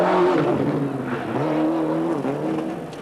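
A Ford rally car on a tarmac stage at the 1995 Monte Carlo Rally, its engine revving and shifting through rising and falling pitches close by, loud and continuous.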